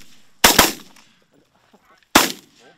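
Two sharp shotgun blasts ring out during an early-season goose hunt in North Dakota, loud and close, the first doubled quickly and the second coming about a second and a half later, each with a short outdoor echo.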